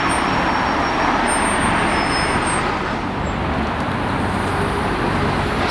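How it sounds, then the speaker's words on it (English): Buses and cars rushing past St Margaret's churchyard at the busy A5 and Station Road crossroads in Edgware, a loud, steady, unbroken roar of road traffic with no voices. "the large number of buses and cars that are rushing past the churchyard every day"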